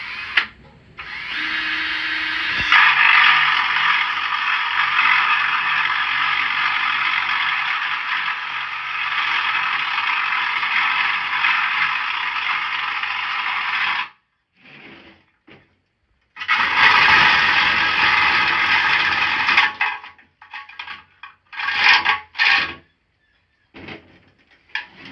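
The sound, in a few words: drilling a 1/2-inch hole in a statue pedestal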